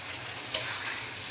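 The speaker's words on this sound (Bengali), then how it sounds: "এখন ভেজে রাখা আলুগুলো দিয়ে দেব।" Fried potatoes dropped into cooked spice masala in a pan, a brief sizzle and stir over a steady low frying hiss, faint and close.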